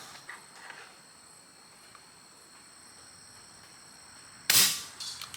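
A single sharp shot from a Umarex Notos G2 air rifle, fired at a target 73 yards out, cracks out loudly near the end after a stretch of quiet outdoor ambience, followed by a brief ringing tail.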